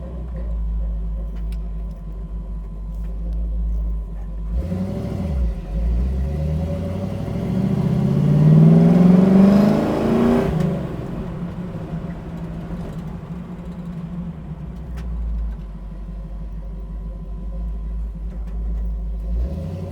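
A 1967 Chevy Camaro RS engine idling with a deep rumble, then revving up and accelerating, rising in pitch and loudness for several seconds before settling back to a steady idle.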